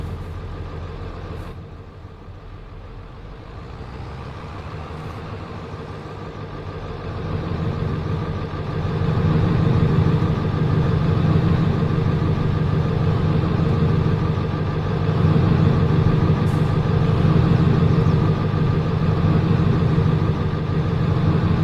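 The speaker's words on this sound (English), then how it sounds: "Damn, that truck's loud." A loud truck engine idles during harvest, a steady low rumble that swells and grows heavier partway through, then holds at a constant throbbing drone.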